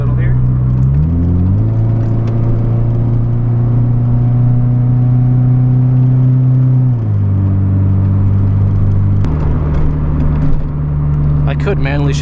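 A 1993 Honda Del Sol Si with a four-speed gearbox is driven on a sunny road with wet patches, its engine droning loud and close from inside the cabin and stepping up in pitch through the gears.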